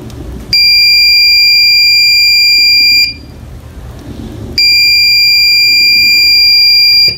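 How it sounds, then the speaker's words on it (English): An Arduino Nano motion detector with an HC-SR04 ultrasonic sensor sets off its buzzer in two long, loud, piercing beeps of about two and a half seconds each, split by a short gap of faint room noise. "See, the buzzer is the beeping"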